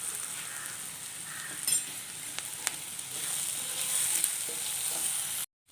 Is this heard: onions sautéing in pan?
yes